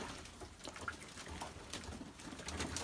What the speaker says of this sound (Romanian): Toți porumbei au intrat la baie.